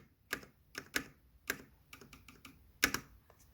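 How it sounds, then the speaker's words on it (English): Spacebar of a mechanical keyboard pressed repeatedly, each stroke a crisp, solid clack with no rattle, about half a dozen separate presses at irregular intervals, close and quiet against a silent background. "Now the sound of the spacebar on this keyboard"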